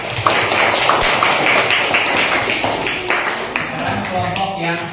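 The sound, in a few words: classroom applause, clapping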